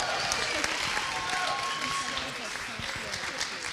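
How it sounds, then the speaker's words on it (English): A crowd at a local singing competition final applauds a contestant, steady clapping throughout with an announcer's voice over it. "Everyone, one more big round of applause"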